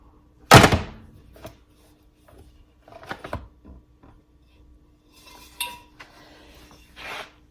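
Metal cake pan handled while a butter cake is turned out: one sharp clank at the start, then scattered light knocks and scrapes, close and alone with no talking.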